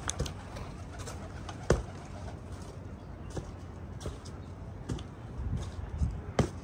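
Birds in a loft coo and call close by, with soft repeated calls and occasional sharp clicks or wing flaps over a low background hum.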